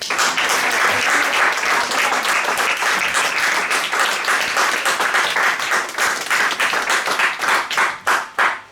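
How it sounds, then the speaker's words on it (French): A church congregation claps and applauds for the Lord. The applause is loud and sustained, then thins into scattered, separate claps toward the end. "est-ce qu'on peut acclamer pour le Seigneur?"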